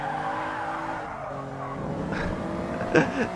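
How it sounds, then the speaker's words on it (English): A Toyota GR Yaris at speed on the Nürburgring, its engine droning steadily with tyre noise, then a shift point and a brief rise in revs near the end, loud and close with no talk. "I think fourth will do just fine through here because the engine is so strong"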